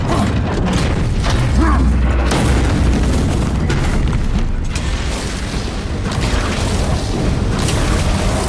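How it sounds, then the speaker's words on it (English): A frag grenade explodes in Warhammer 40,000: Space Marine 2, a deep rumbling boom layered with clanking mechanical battle noise and grinding debris, loud and dense throughout with no clear pauses. "Frag grenade deployed."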